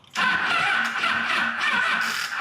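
A Yamaha FZ1 motorcycle engine, choke on, catches on its first start attempt and runs loud and close, a steady rough idle with a raspy mid-range roar and no talking over it.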